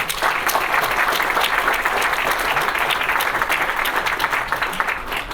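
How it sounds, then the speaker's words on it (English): Steady audience applause at a graduation ceremony, dense continuous clapping from many hands filling the room, even and sustained throughout. "Let's pause and clap for that."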